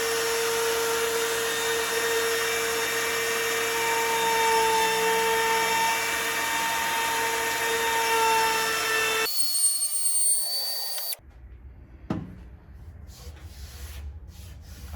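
A Milwaukee M18 cordless router whines steadily as it makes a shallow cut in wood for about nine seconds, then the motor cuts out and quieter handling knocks follow.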